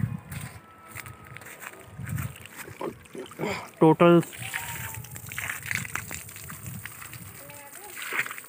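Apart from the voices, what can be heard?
Crompton 1 HP Tullu water pump running, water flowing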